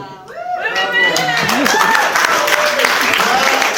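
Wedding guests at Merrydale Manor applaud the groom, a crowd's clapping building into a full, sustained round with overlapping cheers and voices close by.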